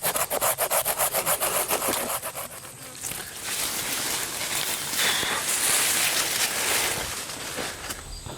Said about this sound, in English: So I'm gonna start hacking and trimming, and we'll see how long it takes us to get up the back side of this tree.